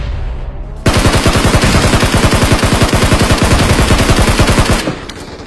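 Rapid automatic gunfire in PUBG, a single long burst of close, loud, evenly spaced shots lasting about four seconds before cutting off abruptly into quiet.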